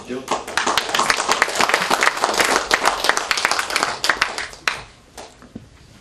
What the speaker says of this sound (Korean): 박수 치시죠.